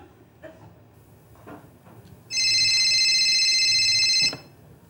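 A telephone rings loudly for about two seconds as a single continuous electronic trill, after a quiet stretch with faint indoor rustling and no talking.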